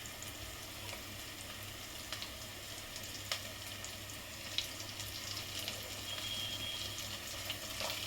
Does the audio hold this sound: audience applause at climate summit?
no